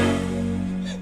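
A Korg Wavestation EX synthesizer plays its Sandman patch, modified to resemble the Apple startup chime: one loud, sustained, rich harmonic chord that fades slowly over a second.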